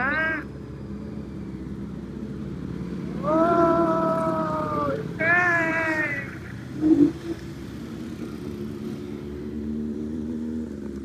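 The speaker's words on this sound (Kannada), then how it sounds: "ಇಲ್ಲಿ ಈಗ ಬೈಕ್ ಬರೋ ಟೈಮ್ ಆಯ್ತು. ಬರುತ್ತೆ ನೋಡಿ ಇವಾಗ." A motorbike engine drones nearby, with rising revs in two loud surges before settling back to a steady hum.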